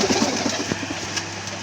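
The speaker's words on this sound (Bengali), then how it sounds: "এই দেখুন ভিতরে পায়রা ছাড়া আছে আমার, কত বড় জায়গা।" Pigeons coo inside a large pigeon house, soft low throaty coos repeating over steady background noise, close by.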